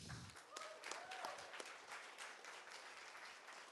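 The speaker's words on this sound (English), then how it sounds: "a big applause for Kaho Abe." A lecture audience applauds a presentation speaker with faint, distant clapping that continues evenly for several seconds, and a brief voice is heard at the start.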